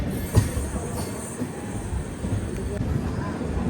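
The Kacheguda Weekly Express stands at Erode Junction during a loco reversal while its engine couples on; a sharp clank near the start gives way to low rumbling and faint wheel squeal, with a station murmur in the background.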